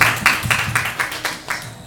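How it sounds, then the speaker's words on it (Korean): A church congregation claps in steady rhythmic unison after a prayer, a loud, close, even beat with a few voices faintly underneath. "우리 하나님께 영광의 박수 올려드립니다."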